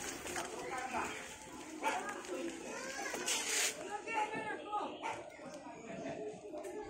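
A dog gives small yipping barks, not very loud, amid a busy background of children's voices and play.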